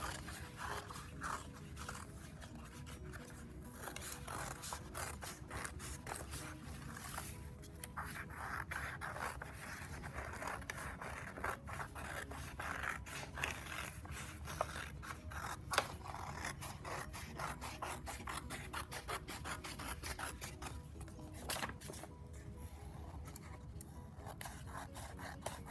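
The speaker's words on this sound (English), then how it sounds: "cut out around our vase slowly and carefully" Scissors cut slowly and carefully around a paper vase shape, giving a steady, close run of soft rasping snips and crisp paper crackles throughout.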